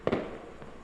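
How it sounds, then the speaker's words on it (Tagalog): Fireworks go off outside with two sharp pops in quick succession, fairly faint and distant, followed by a low fading rumble. "May fireworks sa labas!"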